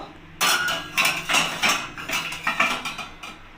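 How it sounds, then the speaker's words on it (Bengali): A metal pot lid comes off a pan of eggplants, several sharp close clanks and rattles in an uneven series, with no talk. "5 মিনিট হয়ে গেছে, এবার আমি ঢাকাটা খুলে দেখে নেব।"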